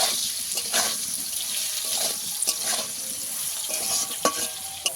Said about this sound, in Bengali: আলুটাকেও ভালো করে একটু ভেজে নিতে হবে।